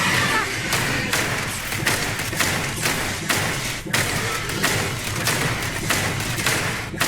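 Gunfire in the space RPG Starfield, a steady run of loud, rapid thumping shots repeating without pause over dense game ambience.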